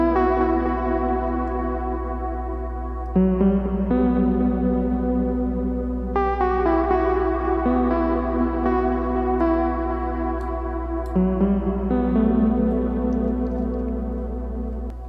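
A synth melody built in the Massive software synthesizer plays at 120 BPM, a bright layered tone stepping through sustained notes over a deep steady bass drone, loud and alone with no voices.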